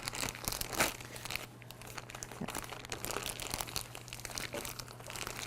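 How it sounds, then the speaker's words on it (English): Plastic bag holding risen focaccia dough is opened, giving continuous close crinkling and crackling with sharper rustling bursts throughout. "So once I open this bag,"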